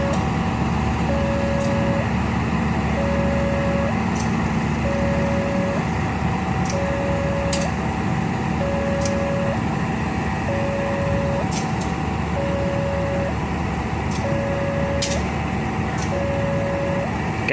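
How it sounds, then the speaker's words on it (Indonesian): The KA Lodaya passenger train departs Nagreg station. A loud, steady engine drone continues throughout, with an even repeating tone and sharp periodic clicks over it. "Alodaya sudah diberangkatkan terlebih dahulu untuk meninggalkan stasiun Nagreg"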